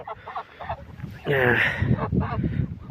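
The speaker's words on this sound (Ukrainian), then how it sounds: "О, із тих сірих, то ну це одне точно гуска." A grey goose honks loudly nearby in a couple of nasal calls, one long harsh honk in the middle, while someone talks quietly in the background.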